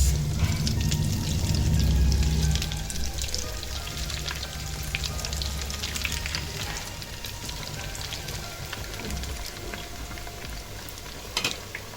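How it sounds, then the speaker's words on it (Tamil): Cheese fingers deep-frying in hot oil for a home-style Italian cheese finger recipe: a steady, dense sizzle and bubbling that starts fuller and settles into a constant crackle, with a few sharp pops near the end. "பார்க்கலாம் எப்படி ஃப்ரை ஆகுது"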